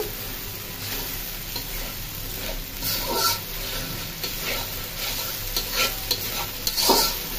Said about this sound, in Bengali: মশলাটা ভালো করে কষানো হচ্ছে।